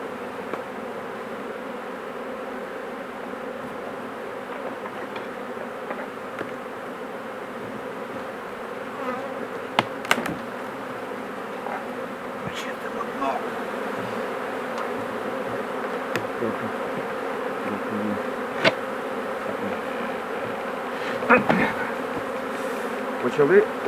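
Honey bees buzzing around the hives in August, a continuous dense drone close by, with occasional louder passes of single bees and faint background sounds.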